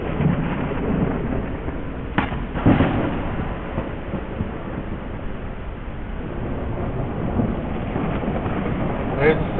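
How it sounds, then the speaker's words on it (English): Thunder rumbling through a stormy scene in the video game Deadhaus Sonata, a low continuous roar under rain-like hiss with a couple of sharper cracks partway through. "little bit of lightning there."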